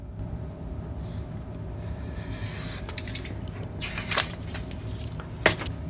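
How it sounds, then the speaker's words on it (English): A masking sheet for a painted decal is cut to size, giving soft papery rustling and a few crisp snips and clicks near the end, close and fairly quiet over a steady low background hum. "then I take my masking sheet and cut out the size that I want."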